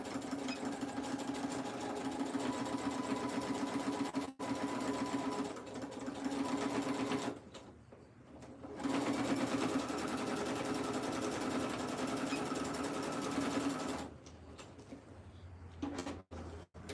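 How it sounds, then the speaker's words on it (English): A sewing machine hums and chatters steadily up close while joining pieces of cow print shorts, pausing briefly midway and near the end with small clicks and handling sounds. "then we're going to sew those together"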